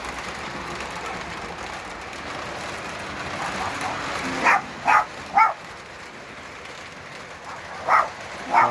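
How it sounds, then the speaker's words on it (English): A small chihuahua barks in short bursts, a few quick yaps and then a pair more, fairly close, over a steady background hum from a running Lionel model train. "my little chihuahua's barking here"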